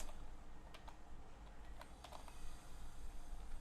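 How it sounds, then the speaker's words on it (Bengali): Keys tapped on a computer keyboard while building an HTML table, a soft irregular patter of clicks over steady background hum, with no talking. "কিবোর্ডে কন্ট্রোল চেপে এসে ক্লিক করলাম, সেভ হয়ে গেল"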